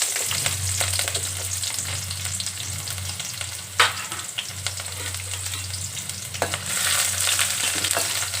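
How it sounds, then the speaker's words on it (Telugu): Sliced onions, cloves, cinnamon and slit green chillies frying in hot oil, a dense, continuous loud sizzle with a couple of brief stirring knocks, heard up close and alone. "ఆయిల్ వేడైన తర్వాత 4 లవంగాలు, కొంచెం చెక్క అండి, ఆనియన్స్, పచ్చిమిర్చి చీలిక వేసుకున్నాను"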